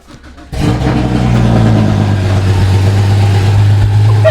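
A Porsche engine cranks and catches after a brief quiet moment, then settles into a loud, steady idle with a strong low drone and a faint upward rev near the end; no one speaks.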